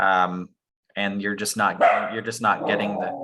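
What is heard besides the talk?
dog barking in background on Zoom call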